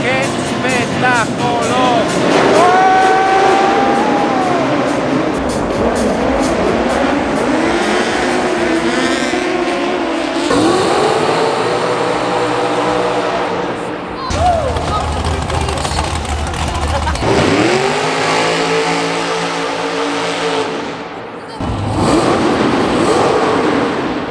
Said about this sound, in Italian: Che bomba è il Dragster? Ha un rumore spettacolare.